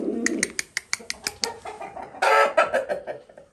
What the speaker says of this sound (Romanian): Un cocoș extraordinar.